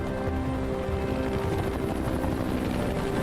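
A helicopter in the Resident Evil video game throbs steadily with a continuous rotor and engine drone, loud and unbroken throughout.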